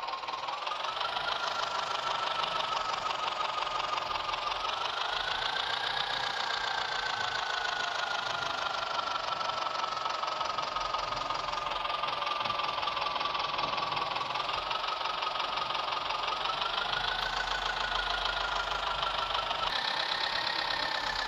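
A tractor engine in the Indian Tractor Driving 3D mobile farming game drones continuously at a steady moderate volume, its pitch rising and falling gently as the throttle changes.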